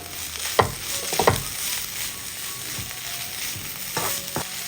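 Lemon juice and chopped coriander leaves are stirred through cooked vegetables in a hot pan, giving a few distinct scraping knocks of a spoon over a soft, steady sizzle, with no voices.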